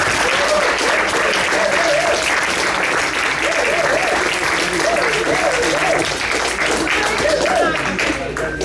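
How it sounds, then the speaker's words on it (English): Audience at a community panel event on Freedom Summer and Ferguson applauds the speakers; dense, sustained clapping fills the whole stretch at steady loudness, with crowd voices mixed underneath. "Let's give them a round of applause."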